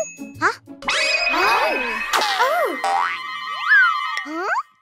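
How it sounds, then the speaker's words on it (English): A cartoon sound effect plays loud and close: boinging, sliding tones and bright dings, with ringing chimes and springy pitch sweeps that keep overlapping for several seconds. "The special bell!"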